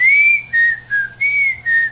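A person whistles the Andy Griffith Show theme, a clear, close melody of five sustained, gliding phrases with short breaths between them, with no talking.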